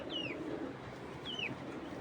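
A racing pigeon coos twice at close range, two soft rolling calls about a second apart, against a quiet background with no voices.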